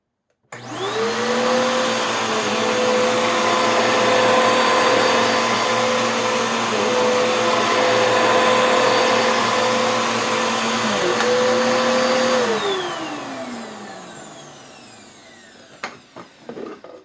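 A Bissell vacuum cleaner fitted with a new belt and new brush roll bearings starts up and runs on carpet with a loud, steady whine and motor drone, then winds down, followed by a few clicks and handling knocks.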